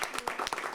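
Audience applause for actress Lesley Nicol at an event supporting Victoria's law: a brief burst of close, irregular hand claps from a small group, lasting under a second.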